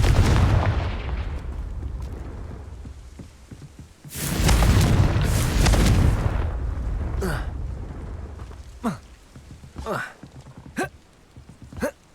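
A Confringo fire spell blasts in the Hogwarts Legacy video game, a loud boom around four seconds in that roars for a couple of seconds and fades, followed by several short sharp impact bursts over a low background.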